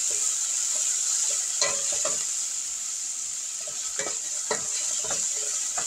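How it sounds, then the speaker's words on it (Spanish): Vegetables sauté in hot oil in a pan with a loud, continuous hiss, while a utensil stirs through them in several soft, irregular scrapes. "Sofrío primero esto. El aceite está caliente. Vamos a sofreírlo bien sofrito."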